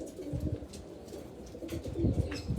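Pigeons coo softly in low, rolling murmurs, several calls overlapping close by with light background noise.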